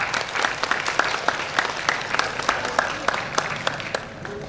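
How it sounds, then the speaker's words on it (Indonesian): An audience at a school open house and parenting event claps after an opening angklung performance by a junior high ensemble, a dense close burst of applause from a modest crowd that keeps a steady pace throughout. "Dari itu, beri tepuk tangan semuanya."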